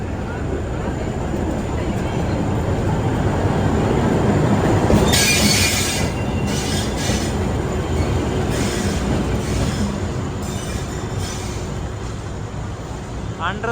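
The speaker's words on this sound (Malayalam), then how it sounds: "ഇപ്പോഴാണ് ട്രെയിൻ പ്ലാറ്റ്ഫോം നമ്പർ 14ലേക്ക് ഷണ്ടിങ് ചെയ്ത് വരുന്നത്" The Mangaluru Junction superfast train shunts into platform 14 at a busy station, a loud continuous rumble of rolling rail cars with brief wheel squeals partway through and people talking nearby.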